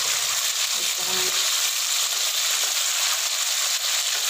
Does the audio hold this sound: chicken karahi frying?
yes